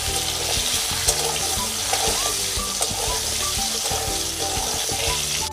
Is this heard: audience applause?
no